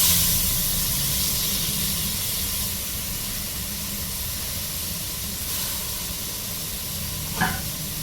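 Coriander and mint leaves frying in a pan with fried ginger-garlic paste while making bagara rice, a steady broad hiss and sizzle throughout, with a brief clink near the end and no talking.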